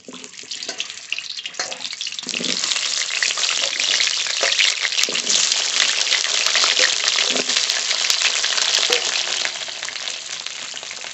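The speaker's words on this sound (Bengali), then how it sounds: "এখন আলু ভেজে নেব" Steady, loud sizzling of potatoes frying in hot mustard oil in a wok, a continuous crackle with occasional stirring clatter, no voices.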